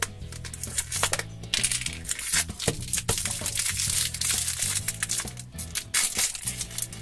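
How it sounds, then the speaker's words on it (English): A LOL Surprise doll wrapper is handled as its band and sticker are pulled off: dense, close crinkling and crackling plastic with sharp clicks and tearing bursts, irregular throughout, no talk. "Pull off the band, and then the sticker"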